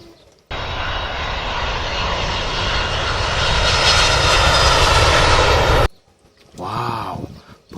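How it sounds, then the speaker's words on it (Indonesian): A Garuda toy airplane gives a loud, steady engine roar lasting about five seconds, then cuts off abruptly; a brief voice follows near the end. "ini adalah pesawat Garuda"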